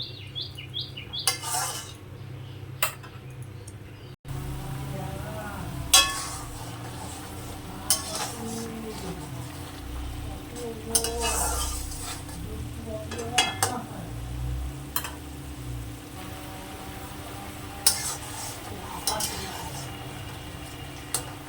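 Greens simmering in water in a pan with occasional stirring, a low bubbling boil under intermittent clinks and scrapes of a utensil, with faint bird chirps in the background.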